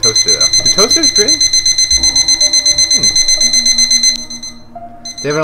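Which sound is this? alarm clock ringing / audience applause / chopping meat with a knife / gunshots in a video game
alarm clock ringing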